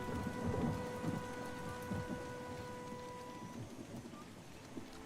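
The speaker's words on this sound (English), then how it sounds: "Kara, what a storm." A thunderstorm in a computer role-playing game: steady rain patter and low rolling thunder rumbles, heaviest at the start and then easing, with faint sustained tones above and no voices.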